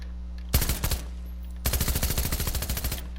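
Machine pistol gunfire in the Fortnite video game: two rapid bursts, a short one and then a longer sustained one after a brief pause, loud and close over a steady low hum.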